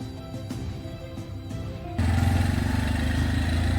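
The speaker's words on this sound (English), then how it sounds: "We're just not too sure the tuk-tuk will actually make it through." A tuk-tuk engine chugs along a bumpy national park track, a steady mid-pitched rumble that suddenly grows louder and rougher halfway through, as if revving harder, with no voices.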